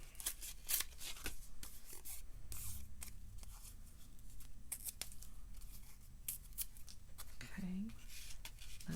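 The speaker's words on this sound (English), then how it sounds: "Because I love to rip paper." Paper is torn by hand for a scrapbook sketch layout, giving repeated dry, crisp rips and rustles in quick irregular strokes, close and fairly quiet, with soft speech underneath.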